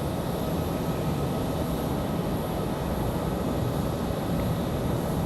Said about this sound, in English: Gear coming down now on that 737